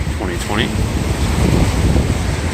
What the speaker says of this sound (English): Just listen to that wind.